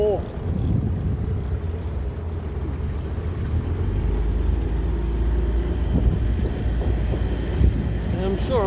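A small aluminium tinny motorboat travels along the Murray River, its outboard engine droning steadily under wind buffeting and water wash, with brief voices near the start and end.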